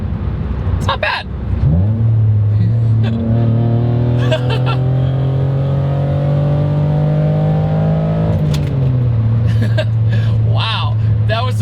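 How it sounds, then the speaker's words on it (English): A Ford SVT Contour with a 195-horsepower V6 revs hard under acceleration, its engine note climbing steadily for several seconds before a shift drops the pitch and it pulls again, loud and close inside the car. "It sounds like a high revving old V6 that you'd find in a lot of different cars"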